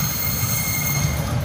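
A train rolls steadily past at Cikarang station in Indonesia with a constant low rumble and a thin, sustained high squeal of wheels on rail, close and continuous.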